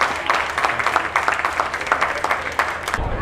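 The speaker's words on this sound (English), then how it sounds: "give a round of applause for Don, everybody" An audience claps at an event, a steady dense patter of hands lasting a few seconds and fading abruptly at the end, with some voices mixed in.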